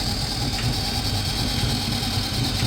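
A Bosch tumble dryer hums steadily after its drive belt has been replaced, giving a close, even motor drone with a faint rumble of the turning drum and no knocking or scraping.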